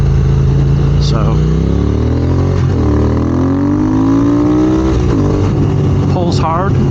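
A 2022 Triumph Speed Twin motorcycle on a custom tune accelerates hard, the loud engine note climbing steadily through a gear, dropping briefly at a shift, then rising again, close and continuous.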